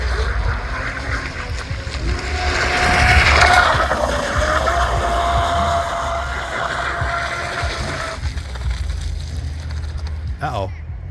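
A Pro Boat Valvryn RC boat on a 3-cell battery with a 2-blade prop runs on water, its electric motor whining loud and near, swelling midway before easing off, with a brief splash near the end.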